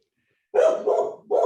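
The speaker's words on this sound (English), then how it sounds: "so you're a completely new person that he's got to bark at" A dog barks three times in quick succession at close range, loud deep woofs with a brief gap before the last one.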